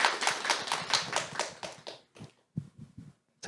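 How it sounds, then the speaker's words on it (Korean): Audience clapping for an author and art therapist at a book concert, a burst of many hands at first that thins into a few scattered claps and then fades out. "지우 작가님께 먼저 박수 한번 보내드리죠"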